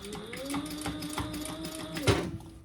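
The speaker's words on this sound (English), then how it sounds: "So now I'm going to just sew over my end here." Sewing machine stitching across the end of a fabric pouch, working carefully past a staple, with a steady mechanical whir and rapid needle pulses, close and moderately loud, with a brief louder clack near the end.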